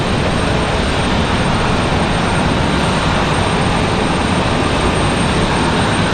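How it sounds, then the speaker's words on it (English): A United Boeing 737 MAX 9 arriving from Newark at Raleigh-Durham airport, a loud, steady broadband jet roar that holds constant throughout, with no voices. "Our next arrival is going to be United 1850 coming in from Newark, New Jersey. This one is going to be that 737 MAX 9."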